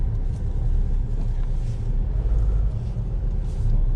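A Tata Safari engine hums steadily with low road rumble while driving on hills, continuous and close, with no voices over it.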